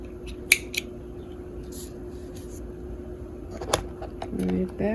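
Scissors snip a length of embroidery thread with a few quick, light cuts and handling sounds over a steady background hum, with a voice speaking nearby.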